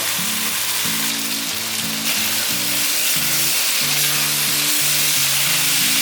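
Seasonings, ginger and chili stir-fry in a wok for a vegan eggplant and basil dish, giving a steady close sizzle throughout with music playing over it.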